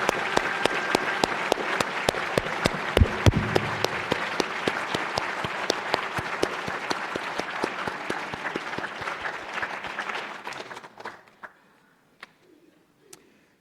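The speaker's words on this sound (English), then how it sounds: "Let's have one more round of applause for these extraordinary leaders and their extraordinary families." Audience applause at an induction ceremony: dense, loud clapping for about ten seconds, then thinning to a few scattered claps before fading out.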